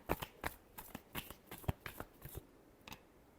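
Tarot cards are shuffled by hand in quick, soft riffling bursts and slaps, close and quiet, in an uneven rhythm that trails off near the end.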